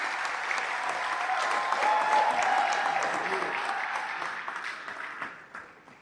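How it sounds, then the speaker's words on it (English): An audience gives a round of applause for a university Vice Chancellor at an alumni mentoring event, a dense, steady wash of clapping from a sizable crowd that holds strongly before gradually fading out. "A round of applause for her."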